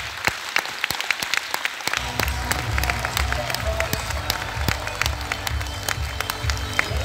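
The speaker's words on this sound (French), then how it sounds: "On peut les applaudir bien fort." An audience at a hypnosis show in Champagnole applauds loudly after the performance, with dense continuous clapping from a large crowd, sharp individual claps standing out, and some voices and cheering mixed into the steady roar.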